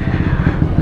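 A motorcycle engine revs close by, a brief, loud, rough throbbing burble with a pulsing rhythm and no talking over it.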